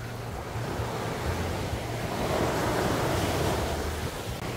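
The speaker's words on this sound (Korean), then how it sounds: "바닷소리 미쳤고" Ocean waves wash continuously onto the beach at Gangneung, a loud, close, steady roar of surf mixed with wind buffeting the microphone.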